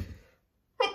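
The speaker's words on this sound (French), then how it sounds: "Alors, je risque d'éternuer," A single sharp sneeze bursts out after a moment of quiet, close and loud, preceded by a soft breathy intake.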